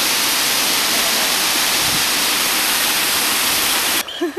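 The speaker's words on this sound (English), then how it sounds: "We are at the Wadi David waterfall." The Wadi David waterfall roars as a loud, steady wash of falling water, close and unbroken, with a brief voice near the end.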